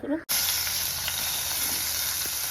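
Onions drop into hot oil for a prawn biryani: after a brief clatter and a short gap, a loud, steady, close sizzle fills the rest of the moment without pause.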